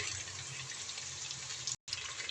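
Water poured from close by into a pot of potatoes and spices for an aloo matar pulao, a steady splashing gush that cuts off briefly near the end before resuming.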